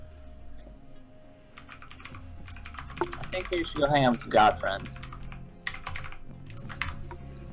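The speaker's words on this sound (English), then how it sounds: "I did not hear a single thing that was said because someone was typing." Rapid computer keyboard typing clatters steadily throughout, with a person speaking briefly over it midway.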